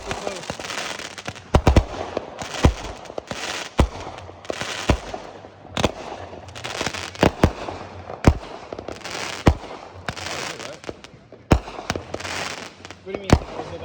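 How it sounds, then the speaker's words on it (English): A large 4th of July fireworks display fired from a mortar table, with a steady series of loud booming bursts and crackles at irregular intervals, and people talking between the blasts. "lighting fireworks"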